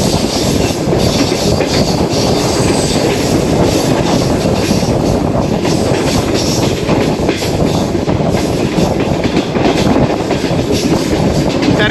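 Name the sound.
Tezgam train running downhill on ghat section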